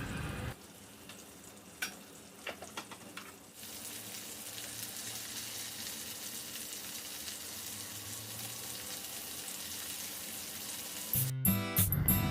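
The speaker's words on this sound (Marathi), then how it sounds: "आता हे मॅरिनेट केलेलं रेशाड मसाला लावलेलं फिश आपल्याला व्यवस्थित भाजून घ्यायचं आहे" Recheado-masala marinated pomfret fish frying on low gas in a pan, a steady soft sizzle running throughout after a few scrapes early on, with louder clatter near the end.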